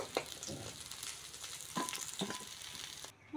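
Pieces of pona fish sizzle and crackle steadily in hot oil in a pan, a close, continuous frying hiss that breaks off abruptly near the end.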